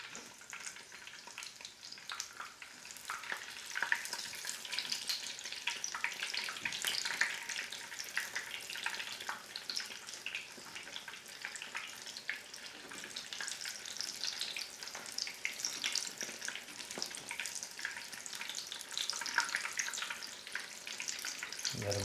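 Shrimp frying in hot oil give a steady, dense crackle and sizzle, bright and busy for the whole stretch, heard close up with no talking over it.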